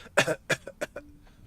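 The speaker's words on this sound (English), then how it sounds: "I think she coughs a decent amount." A female character in the video game Black Mirror III gives a short run of four close, dry coughs in quick succession, then falls quiet.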